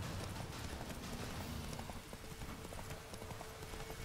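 Steady hoofbeats of a horse in The Witcher 3 video game clip-clop at a walking pace under a constant low rumble of background noise, continuing throughout.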